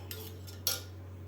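A spoon stirs buttermilk solkadhi in a vessel, making a few soft clinks and one sharper tap over a low steady hum, faint and brief.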